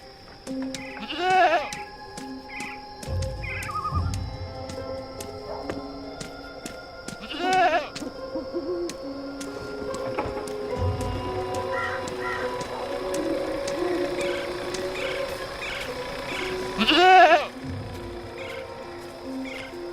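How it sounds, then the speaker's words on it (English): A goat bleats repeatedly in the PC video game Dreamfall Chapters, wavering cries spaced several seconds apart over an ambient outdoor backdrop with a faint steady tone and occasional soft thuds. "Goat eats leaves, goat falls asleep."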